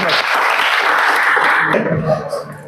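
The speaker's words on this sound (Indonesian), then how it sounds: "Beri aplaus." A classroom group breaks into lively clapping that fills the space loudly, then thins out into scattered claps and fades within a few seconds.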